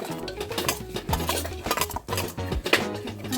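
Chilli powder and pepper powder for a masala curry being stirred in a pan, busy metallic scraping and clattering of a spoon against the pan, close and fairly loud.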